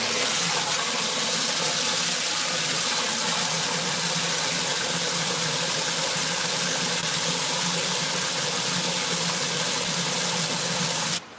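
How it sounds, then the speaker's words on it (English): Clean water pouring steadily into a home-brewing kettle to flush a wort chiller, a constant loud rushing gush that runs unbroken for about eleven seconds before cutting off abruptly. "Putting a little clean water into my kettle to flush out my chiller"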